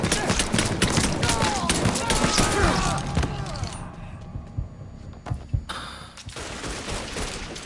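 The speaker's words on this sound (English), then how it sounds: "I won't stop shooting!" Dense gunfire from a Mafia III firefight, rapid overlapping shots crackling loudly for the first few seconds, then thinning to scattered single bangs and a sharp impact, with voices shouting in between.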